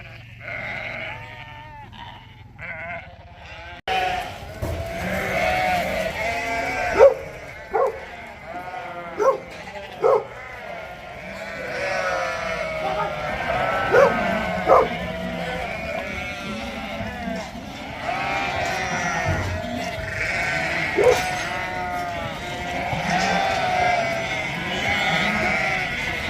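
Flock of mixed-breed sheep, including Mules, Texels and Suffolks, penned on an Irish farm before shearing, bleating repeatedly from near and far in overlapping cries, with occasional dog barks and voices mixed in.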